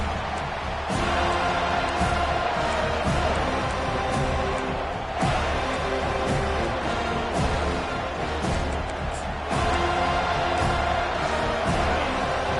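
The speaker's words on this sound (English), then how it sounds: "This crowd, full throat, spreading the eardrums and letting them know it's going to be a long day." A packed American football stadium crowd roars loudly and continuously, a dense wall of cheering and noise that swells in waves, heard alone without talk over it.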